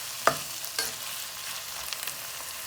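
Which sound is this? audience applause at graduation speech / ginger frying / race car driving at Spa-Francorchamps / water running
ginger frying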